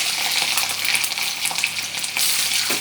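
Garlic and mustard seeds sizzle and crackle steadily in hot oil for a Tamil sukku kara kuzhambu, a dense close frying hiss that never lets up.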